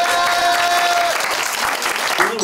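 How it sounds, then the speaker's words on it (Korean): A university classroom audience gives a burst of clapping, a dense, lively applause that holds steady and then tapers off. "박수 좀 쳐주세요."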